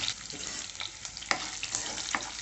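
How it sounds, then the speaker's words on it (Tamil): Garlic cloves sauté in hot oil with mustard seeds for fenugreek kulambu, a quiet, even sizzle broken by small pops and crackles. "இந்த எண்ணெயிலேயே நம்ம பூண்டை நல்லா வந்து வதக்கிக்கலாம்."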